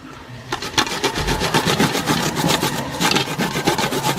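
Coconut being grated by hand on a plastic grater, a steady, loud, close scraping rasp with rapid back-and-forth strokes running continuously for a few seconds, no voices.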